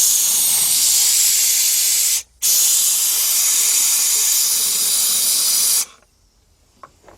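Spray cleaner hisses in two long loud bursts onto the brake parts of a 2002 Workhorse Fastrack FT Chevy P30 truck, with a short pause between them, then the spraying stops abruptly and a faint clack follows.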